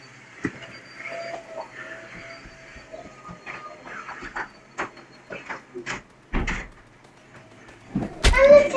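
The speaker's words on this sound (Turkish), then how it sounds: "Kapıyı kapat." A door shuts with a short thud in the survival video game Muck, set amid a busy wash of in-game noise, with further clunks near the end.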